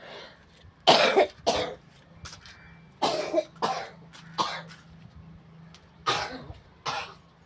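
One person coughs hard and close in short clusters of two or three wet, chesty bursts, separated by quiet pauses. The cough comes from a cold that has lasted about two weeks.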